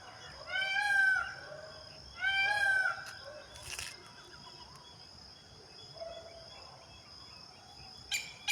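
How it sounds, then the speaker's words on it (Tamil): A peacock gives two loud, drawn-out wailing calls close together, followed by quieter scattered farmyard noises and a brief sharp call near the end. "மயில் கத்துது பா பாப்பா"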